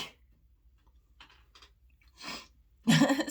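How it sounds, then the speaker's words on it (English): A single person sneezes suddenly: quiet breathy intake noises build up, then a loud sharp sneeze bursts out at the end. "Sneeze snuck up on me."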